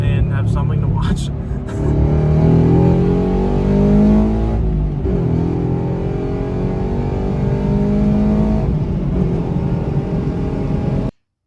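A car pulls hard on a quiet road at night, the engine revving up through rising gear pulls with short dips between shifts, loud and close, then cutting off abruptly at the end.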